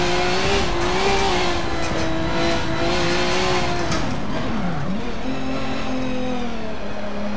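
A Group 5 race car in Forza Motorsport accelerates hard, its loud engine sweeping up and down through gear changes as it bogs and recovers, with faint tire noise and no talk.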